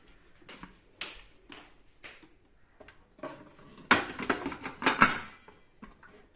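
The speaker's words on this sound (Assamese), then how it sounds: "এইটো এতিয়া মই ৰাইচ কুকাৰত বহাই দিম" A cooking pot set into a rice cooker at home, with a few sharp metallic clanks and a clatter of cookware near the end after quieter handling knocks; no talking.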